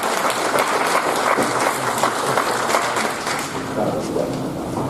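Applause fills an academic forum hall as a speaker is welcomed to the podium, loud and steady at first, then thinning slightly near the end, with faint voices mixed in.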